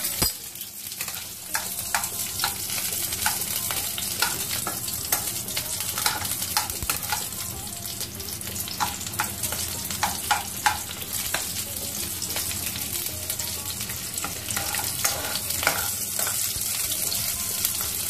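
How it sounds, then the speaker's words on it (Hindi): Onions hitting hot oil in a pan for shahi paneer curry give a loud, steady sizzle with scattered crackles and pops throughout, close by and with no talking. "अब मेरा तेल गरम हो चुका है, अब उसमें हम लोग प्याज डालेंगे।"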